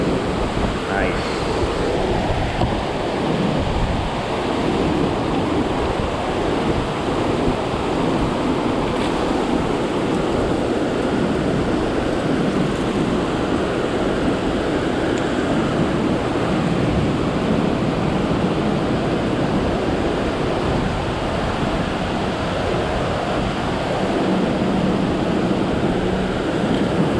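Churning water from the Center Hill Dam generator discharge, a steady broadband rush of surf-like turbulence heard from a boat, with wind buffeting the microphone throughout.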